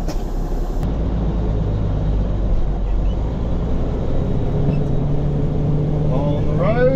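A semi-truck loaded with wood shavings pulls away, its heavy diesel engine rumbling low and steady inside the cab, with a faint tone from the horn at the start and a few brief creaks near the end.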